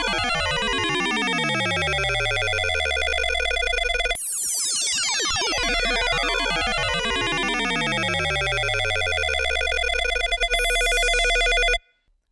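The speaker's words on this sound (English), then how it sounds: "it's just going to make this really weird riser type effect that could be used in buildups, in a drop" Serum synth telephone-style sustain bass reshaped into a riser effect, dense layered tones sweeping up and down in pitch with a shimmering ringing quality, loud and continuous before ending abruptly.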